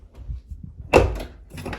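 A door on a 2003 Chevy Silverado, freshly fitted with new speakers and sound deadening, shuts with a single solid thud after some faint handling noise, then a softer rattle trails off.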